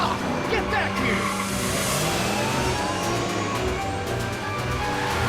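DeLorean car in the Back to the Future video game skidding away, a loud continuous screech of tires and roaring engine over game music, with a voice briefly calling out.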